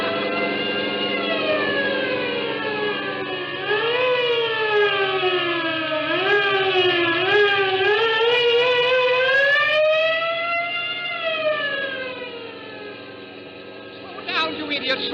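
Police car sirens wail loud and continuous, rising and falling in overlapping sweeping tones during a radio drama car chase, with a brief burst of other noise near the end.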